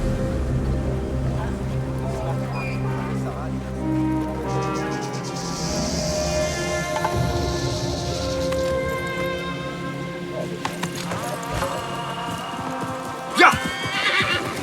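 Horses whinnying and hooves clip-clopping in an Assassin's Creed Mirage cutscene, over a background of music, with a louder burst near the end.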